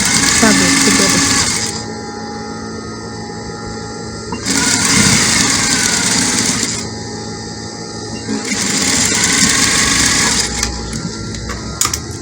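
Sewing machine stitching a dress lining to the main fabric, its steady high whir running in bursts of a few seconds separated by pauses, with a person talking throughout.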